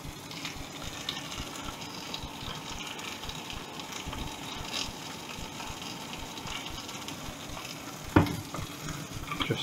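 Boneless mackerel fillet frying in a pan, dressed with sesame oil and a touch of soy sauce, sizzles steadily and closely, with a sharp brief crackle flaring near the end.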